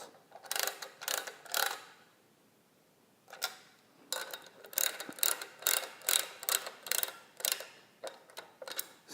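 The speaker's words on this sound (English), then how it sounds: "using a 9/16 inch wrench, I'm going to tighten the two bottom nuts" A 9/16 inch ratcheting wrench tightens the bottom nuts on a universal cable bracket, giving bursts of quick close clicks, a short pause, then longer runs of rhythmic ratcheting alone.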